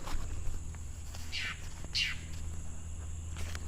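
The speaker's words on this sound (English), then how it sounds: "The birds are getting noisy." Birds chirp outdoors in two short bright bursts over a low steady background hum, with no talking.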